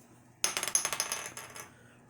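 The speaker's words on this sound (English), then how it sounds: "Let's roll the dice." Dice are rolled on a hard surface during a tarot reading, a quick burst of clattering clicks and bounces that tumble and settle over about a second and a half, close and alone.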